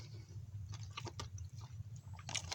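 Someone chews Korean camping ration food close to the microphone, soft crunchy bites and wet mouth sounds in irregular bursts over a low steady hum, without talking.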